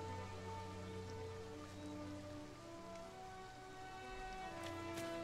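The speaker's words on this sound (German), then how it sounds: "Schön, wie das regnet hier." Rain patters steadily on surfaces in the Disney Dreamlight Valley video game, a faint even hiss beneath sustained musical tones, with a few brighter drops near the end.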